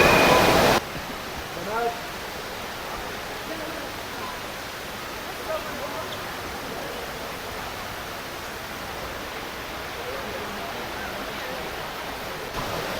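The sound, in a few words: indoor waterfall in the Dubai Mall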